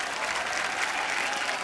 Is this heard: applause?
yes